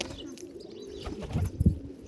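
A pigeon gives a few low, soft coos close by, the calls growing louder toward the end over a faint background murmur.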